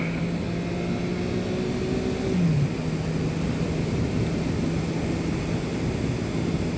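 Motorcycle engine droning steadily while riding down a road at night, with a continuous low hum that briefly dips in pitch as the rider shifts, plus constant wind and road noise throughout.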